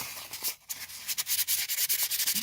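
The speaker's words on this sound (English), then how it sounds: "I'm not using a massively aggressive sandpaper here" Sandpaper rubbing a rough rainbow opal rock by hand, a steady rhythmic scratching of close, repeated strokes with a brief pause near the start.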